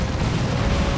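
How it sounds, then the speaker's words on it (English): A heavy plasma cannon blast lands in a chaotic sci-fi battle in Dawn of War II: Retribution, heard as one dense, loud roar of impact and explosion lasting about a second. "Raptors go down, taking a plasma cannon shot."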